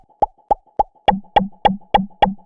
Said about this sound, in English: You get this distinct impact that you can play at the same time as your original bubble.